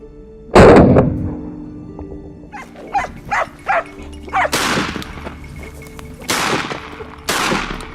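Hunting dogs barking during a feral hog hunt: one loud close bark or bang at the start, then a string of sharp barks, some nearer and louder, spaced irregularly across outdoor brush.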